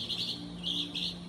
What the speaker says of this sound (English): I'm out here trying to talk over these birds.